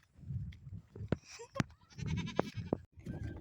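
Goats bleat in an open village field in Assam, several loud close cries breaking over a low murmur of background noise, with a voice heard faintly.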